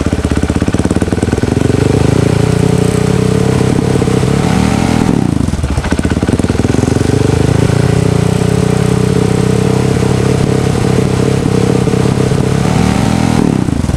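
Motorcycle fitted with a Juken 5 ECU, stuttering on initial throttle: a loud, close engine running rough and uneven, dipping briefly mid-way then picking back up, with no talk over it.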